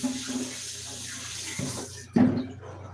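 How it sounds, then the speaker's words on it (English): Tap water runs steadily into a sink while items are rinsed out, a continuous splashing hiss that briefly dips and then surges louder as the flow hits something near the end. "I need to wash these things out."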